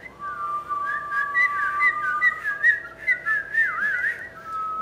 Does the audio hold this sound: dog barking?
no